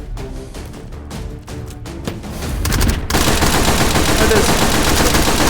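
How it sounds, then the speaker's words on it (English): Stun grenades go off in the VR shooter game H3VR, bursts of gunfire building into a loud, dense, continuous roar of blasts, with a brief spoken word near the start. "Stun grenades are great."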